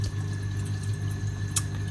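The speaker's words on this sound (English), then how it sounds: "spraying them with water from the turkey baster" Water sprayed from a turkey baster onto zoa corals in a home aquarium makes a steady, close liquid hiss and trickle, with one brief louder splash near the end.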